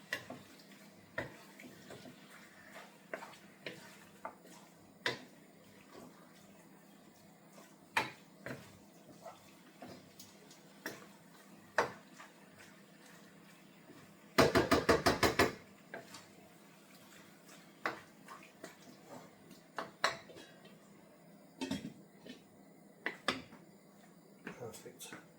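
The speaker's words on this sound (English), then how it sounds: "So keep mixing that lamb in there. I'm throwing it at the pan." Lamb gosht being stirred and tossed in a pan in a home kitchen, with irregular clinks and scrapes of utensil on metal, a brief loud sizzling burst midway, and occasional speech throughout.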